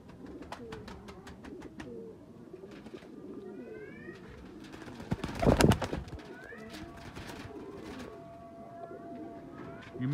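Faisalabadi Jansari and French pigeons for sale in Faisalabad coo softly and repeatedly nearby, with a brief louder flutter or rustle midway through and a faint voice at times.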